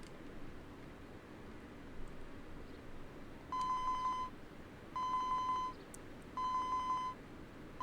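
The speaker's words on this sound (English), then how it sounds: "Osawa's cell phone rang." A cell phone rings in the video game 428: Shibuya Scramble as three short electronic ring bursts, each under a second long, sounding clearly over a steady background hiss.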